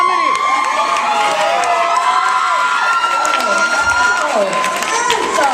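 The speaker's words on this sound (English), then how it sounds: "That applause was satisfactory." Audience at a stand-up comedy show cheers, whoops and applauds in a loud, continuous wash of crowd noise with excited voices on top, steady throughout.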